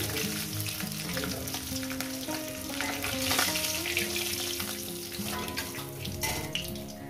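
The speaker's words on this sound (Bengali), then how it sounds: "মাছগুলো আমি দিয়ে দিয়েছি, এগুলো ভেজে নিই" Fish fries in hot oil for a Bengali mustard fish dish, giving a steady, loud sizzle with crackling spatters and the scrape of stirring throughout, with no voices.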